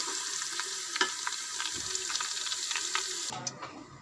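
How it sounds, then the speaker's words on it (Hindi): Mongre and potatoes frying in oil, a continuous close sizzle with occasional light clinks and stirring taps, cutting off near the end to a quieter tail. "ये फ्राई हो रहे हैं ऑयल में"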